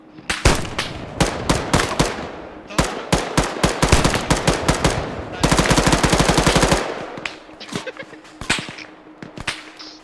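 Rapid automatic gunfire in the military shooter ArmA, with loud bursts of mag-dump fire and close, sharp reports repeating in fast clusters and one sustained stream of rounds.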